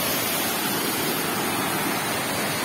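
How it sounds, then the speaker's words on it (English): A waterfall in Meghalaya pours with a loud, dense, continuous roar of rushing water and nothing else heard. "amazing waterfall."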